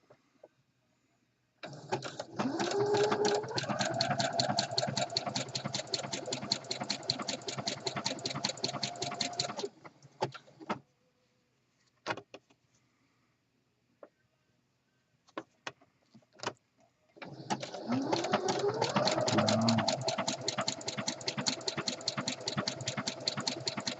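A sewing machine stitches fold-over elastic onto the raw edges of a jockstrap pouch, running in two steady motor bursts with a quiet pause between them, fairly close and with no talk over it.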